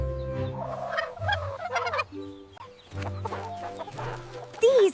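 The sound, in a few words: turkey gobbling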